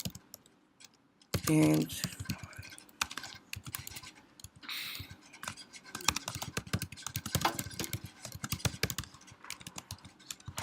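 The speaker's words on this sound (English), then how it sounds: "So while you're typing this up" Rapid typing on a computer keyboard comes in irregular bursts of close, crisp key clicks with short pauses, and a voice speaks briefly near the start.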